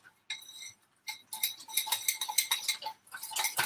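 A spoon or whisk mixes sablé biscuit dough in a bowl, making close, rapid metallic clicks and scrapes in quick rhythmic runs with brief pauses.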